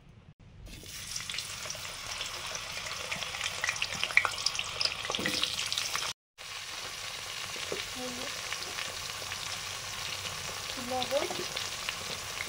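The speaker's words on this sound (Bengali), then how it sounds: "এখন লোটে মাছের রান্নার জন্য বেগুনগুলো প্রথমে ভাজবো।" Eggplant pieces fry in mustard oil in a pan, a steady bright sizzle with scattered crackles and a brief break midway, while a voice speaks a word or two faintly underneath.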